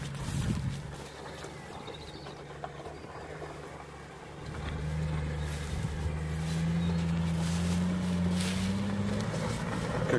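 A Nissan Patrol engine with glow plug trouble runs roughly and labors outdoors, its uneven drone rising and wavering in pitch over wind noise, moderately close and without talk.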